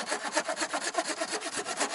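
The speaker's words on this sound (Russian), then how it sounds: "Берем нашу пилу." Hand saw cutting through wood while building an underground house's entryway and bathhouse: steady back-and-forth strokes in a quick, even rhythm, close and fairly loud, with no voices.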